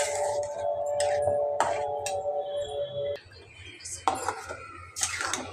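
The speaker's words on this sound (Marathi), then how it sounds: "तर आता आपण ॲड करूया गरम मसाला आणि मिक्स करूया" A spoon clinks and scrapes against a pan while garam masala is mixed into sarson da saag, in close, uneven bursts of metallic knocks, with a faint voice in the background.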